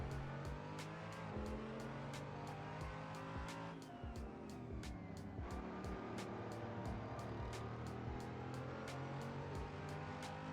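A GT3 race car in the Assetto Corsa racing game drones steadily at high revs with gear shifts and sustained tire squeal, loud and continuous throughout.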